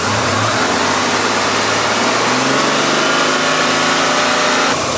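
Car engine held at a steady fast idle of roughly 1500 to 2000 RPM while warming up, a loud continuous hum with no voices.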